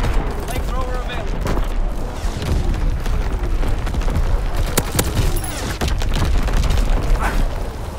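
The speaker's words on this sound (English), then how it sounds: "Firing division artillery" Division artillery firing in a strategy video game, a dense barrage of booming blasts and crackling gunfire rolling continuously with distant in-game voices mixed in.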